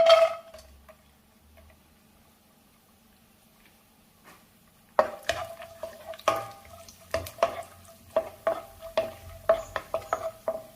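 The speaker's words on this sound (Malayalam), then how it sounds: "നമുക്ക് ആ എണ്ണയിലേക്ക് തന്നെ നട്ട്സും കിസ്മിസും ഒന്ന് വറുത്തെടുക്കാം." Nuts and raisins frying in oil left over from frying onions for chicken biryani: a quiet stretch gives way to brisk sizzling and rapid ticking stirs against the pan.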